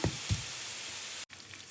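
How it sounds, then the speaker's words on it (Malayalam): Mustard seeds sizzle in hot oil with a close, steady frying hiss, a couple of soft knocks at the start and a momentary break partway through. "എണ്ണ ചൂടായിട്ടുണ്ട്. കടുകിട്ട് കൊടുക്കാം."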